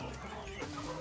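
Chickens cluck in a busy poultry market, a short burst of close, dense fowl calls over steady market background noise.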